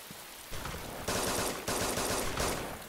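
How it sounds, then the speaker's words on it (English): Dense bursts of rapid automatic gunfire rattle through a video game match, several overlapping volleys, with no talk over them. "there's a lot of shooting going on in that building."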